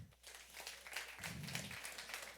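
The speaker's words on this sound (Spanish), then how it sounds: "Dale otro aplauso, fuerza al Rey." A church congregation applauds during a sermon, a moderately distant, continuous patter of clapping with swelling bursts, quiet overall and without speech.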